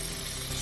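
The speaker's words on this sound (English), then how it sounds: "now I got my skillet kind of getting hot. I'm going in with my bacon." Thick bacon sizzles loudly in a hot skillet, a brief, steady crackling hiss heard up close with no talk.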